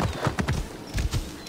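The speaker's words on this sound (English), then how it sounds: "I'm riding a horse through an enemy area." A horse gallops in Assassin's Creed Origins, its hooves pounding in a steady rapid rhythm that stays close and loud throughout, with no talking.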